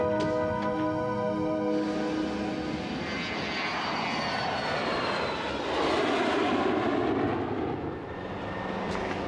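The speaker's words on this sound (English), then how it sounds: "Get this aircraft off the ground now." A fixed-wing aircraft roars loudly and continuously as it takes off, a strong steady engine rush with shifting whine throughout.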